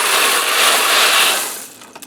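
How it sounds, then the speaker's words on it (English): Hard dry pasta pours into a hot electric skillet: a pound of raw elbow macaroni rattles and hisses in one steady close stream for about two seconds, then tapers off with a few final clatters. "I'm going to add in a pound of raw elbow macaroni."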